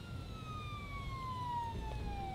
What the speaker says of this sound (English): As the sirens grew louder